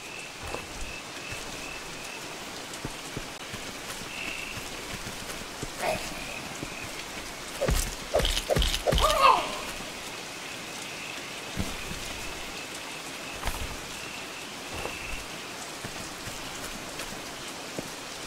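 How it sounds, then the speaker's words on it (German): Steady rain patters in the video game Force of Nature at night, a soft continuous hiss with a few louder clatters in the middle and faint tones from the game. "nein, es muss natürlich auch noch regnen, ist ja eh klar."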